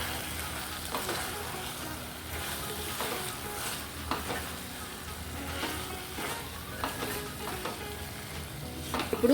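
Drumstick masala curry with chili powder is stirred in hot oil in a pan. A steady, close sizzle runs throughout, broken by repeated soft scraping strokes, with no talking.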